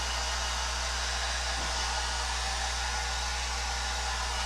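Hair dryer blowing air over an alcohol ink painting to dry it, a loud, steady, close whooshing roar with a constant low motor hum, unbroken throughout and no voices.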